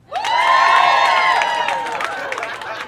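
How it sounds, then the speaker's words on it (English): A stand-up comedy crowd erupts in clapping, cheering and whoops, loud and sustained, tapering off after a couple of seconds. "now clap if you don't have kids"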